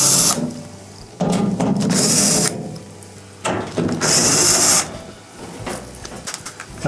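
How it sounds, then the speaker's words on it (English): A power tool whirs in bursts while driving out the 1/4 inch screws on a Whirlpool washer's back panel. The loud runs start and stop and are split by short quiet gaps, with a close mechanical rattle and no voices. "we're going to remove the 1/4 inch screws that hold the back panel on"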